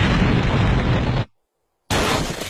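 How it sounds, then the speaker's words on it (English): A loud, close cartoon explosion of a suspicious bag at a train station, a dense roaring blast that cuts off abruptly into silence, then more rumbling noise returns. "the suspicious bag detonated at Springfield Union Station today"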